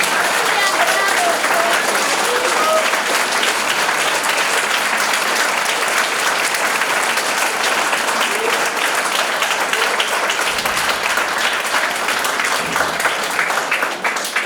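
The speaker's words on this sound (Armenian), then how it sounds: "Եկեք բարձր, բոլորս ծափահարենք միմիայն ընկեր Ծատուրյանին" Steady, dense applause from an audience at an elementary school farewell ceremony for a fourth-grade class, many hands clapping loudly and continuously for the whole stretch with no pause.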